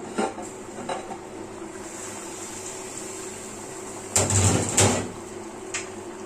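A pot lid lifts off a simmering Kerala fish curry with a couple of light metallic clinks, then a louder clatter of the lid and pan a few seconds later, against faint steady background hum.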